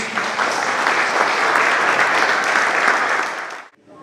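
A church crowd at a March for Jesus gathering applauds Pastor Cid with loud, dense clapping that holds evenly, then cuts off abruptly near the end.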